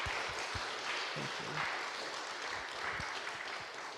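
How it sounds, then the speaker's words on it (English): Faint, distant applause for Rabbi Laura after her keynote, a soft continuous patter of clapping from a conference audience. "I hope you'll all join me with a round of applause for Rabbi Laura."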